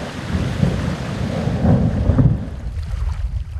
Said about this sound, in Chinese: 冰震声音此起彼落，仿佛是冰川在向人类发出求救讯号